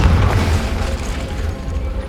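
A Confringo blasting spell explodes in Hogwarts Legacy with a loud, deep boom that quickly fades into a rumbling tail.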